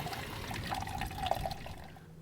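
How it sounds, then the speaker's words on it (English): Water gushes and trickles steadily draining from a hot water tank, a continuous hissing pour with a faint gurgle, close and with no voices. "while I'm letting this hot water tank drain"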